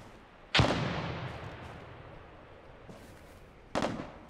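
A grenade explodes in America's Army: Proving Grounds, a sharp loud blast with a long rumbling decay, followed about three seconds later by a second similar explosion.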